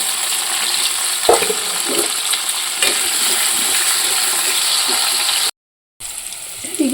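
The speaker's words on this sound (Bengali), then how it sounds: "এদিকে কুমড়োটা ভাজা হয়ে গেছে" Potato and pumpkin frying in a pan give a continuous bright sizzling hiss, with a few clatters of stirring, before a short gap of silence and the sizzle returning.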